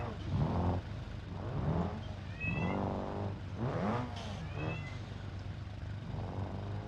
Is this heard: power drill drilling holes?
no